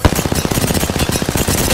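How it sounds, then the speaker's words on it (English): Rapid automatic gunfire from an Apex Legends match, a steady burst of close, loud shots in quick rhythm filling the whole moment with no talk over it. "I'm shooting on them."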